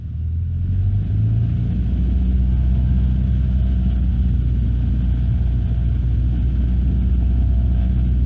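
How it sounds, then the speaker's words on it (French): A light aircraft's piston engine runs up to 1800 rpm while the plane sits still on the ground. It gives a loud, steady, low droning rumble that builds in the first second and holds constant, with one brief spoken word at the start. "Ok, donc on va faire les essais moteurs."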